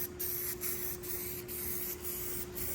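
Close, steady hiss of undercoating-style coating sprayed onto a Ford F-150 part, broken by short regular pauses in a rhythmic on-off pattern, with no talk.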